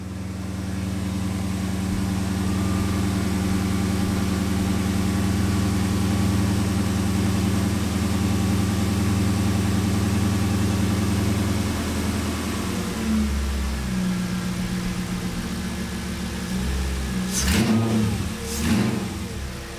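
A Mercedes CLK55 engine runs close by, idling steadily with a deep, even hum, then revs in a few quick throttle blips near the end. No voices are heard.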